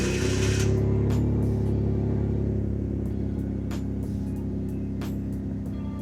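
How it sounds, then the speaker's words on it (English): A BMW engine cranks and fires at the start, then settles into a steady, loud idle with a low harmonic rumble; the idle control valve has just been replaced. "so I'm gonna go ahead and start it."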